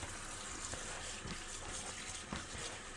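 Grapes rinsed under running water from a tap, a soft, steady stream of splashing that stays faint and continuous with no talking.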